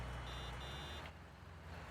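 A vehicle horn in Farming Simulator 19 sounds in two short, steady honks over a low engine rumble, faint in the mix.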